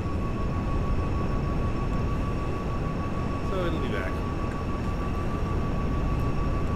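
Airplane flying in GTA 5 Online, a steady droning engine hum with a constant tonal whine held throughout, with a brief voice over it.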